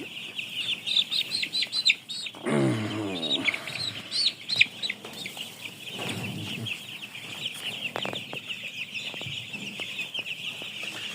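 Seven-day-old broiler chicks in a farm shed give a constant, high, busy chorus of peeping, with a few louder clucks and small shuffling knocks close by.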